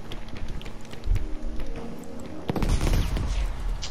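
Battlefield V gameplay gunfire cracks out in several sharp bursts and single shots, with heavy thumps and clattering between them, the loudest volley coming near the end of the stretch.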